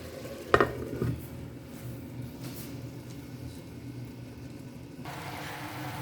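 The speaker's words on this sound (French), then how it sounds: "Là, je vais un petit peu remuer et mélanger." Soya chunk biryani stirred in a cooking pot: a spoon scrapes and knocks against the metal with a couple of clanks near the start, then fainter scraping over a low steady sizzle, with no talking.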